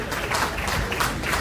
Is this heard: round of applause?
yes